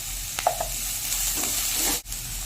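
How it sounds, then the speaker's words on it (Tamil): Carrots, beans and curry leaves sauté with salt in a pan for a Tamil evening snack, a steady close sizzle with scraping stirs and a brief sharp knock near the end. "இதுக்கு தேவையான உப்பு போட்டு உறுதியாக வதக்கலாம்"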